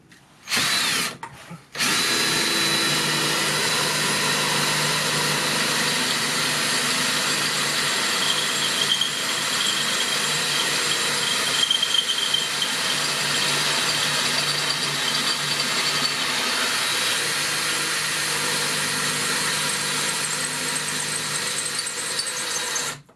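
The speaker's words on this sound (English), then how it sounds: "we're just drilling these holes, pre-drilling them and screwing them in." A power drill driving screws into a van roof whirs continuously at high speed, loud and close, after a couple of short bursts at the start, grinding steadily until cutting off.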